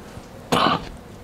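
A man gives a single short, sharp cough, close and loud against a quiet room, ending quickly with a slight throaty tail.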